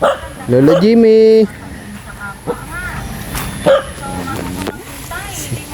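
A dog at a rural home barks a few times near the microphone, short yips mixed with people talking and a radio playing in the background.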